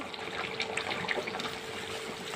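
Egg and potato curry pours from a pan into a serving dish, a steady close trickle and splash of thin liquid lasting a couple of seconds without a break.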